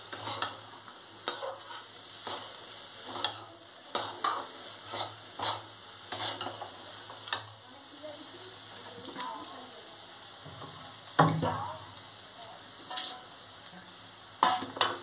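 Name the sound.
stirring rice while frying for basanti polao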